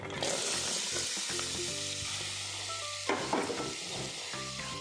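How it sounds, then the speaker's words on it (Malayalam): Sunflower oil sizzles steadily in a pan as onions fry, with a loud continuous hiss and occasional stirring and clinks of a utensil. "നമുക്ക് സവോള വറുത്താനുള്ള ആവശ്യത്തിനുള്ള എണ്ണ ഒഴിക്കാം"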